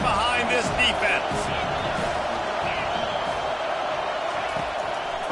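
Stadium crowd roaring to back the defense on a big third down at an SMU college football game, a broad sustained wall of cheering under a play-by-play commentator's voice.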